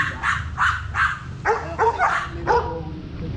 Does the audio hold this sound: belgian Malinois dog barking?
yes